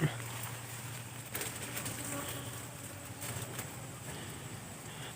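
Bees flying around a newly built nest outdoors, a faint steady buzzing hum with a few passes, quiet overall with a light background hiss.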